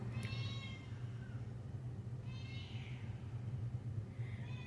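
A house cat meows indoors, several drawn-out, moderately loud calls spaced a second or two apart over a steady low hum, with no talking.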